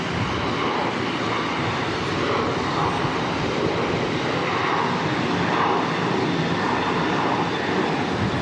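A Qantas jet airliner departing Auckland Airport for Melbourne, its engines a steady, loud broadband roar that holds even throughout, with no talk over it.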